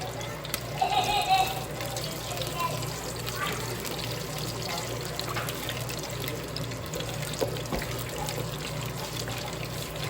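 Whole garam masala spices fry in hot oil for chicken biryani, making a faint, steady sizzle with soft crackles throughout.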